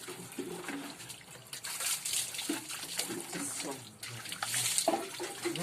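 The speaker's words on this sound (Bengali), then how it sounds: "দে পিঠে জল দে" Water splashes and pours onto someone's back in an uneven, running stream, fairly faint, with several voices talking over it.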